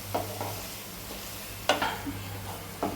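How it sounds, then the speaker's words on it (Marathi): Raw mango thecha, a coarse chutney, is stirred in a pan. A quiet, low sizzle runs under a few sharp, separate spoon scrapes against the pan. "त्याला एकदा हलवून पण घ्यायचं"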